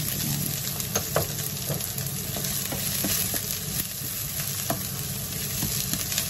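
White onion sautéing in a pan of oil after mackerel for a sarsiadong isda, a constant bright sizzle with frequent sharp ticks and spatters of stirring, close up, no speech.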